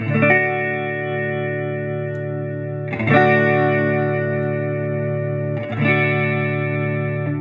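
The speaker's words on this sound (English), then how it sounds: "That's like a fast sweeping chorus." Electric guitar through a Fender Champion 20 amp strums three ringing chords, each left to sustain, with a fast sweeping chorus effect shimmering through the tone.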